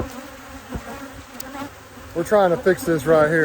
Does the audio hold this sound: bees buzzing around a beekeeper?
yes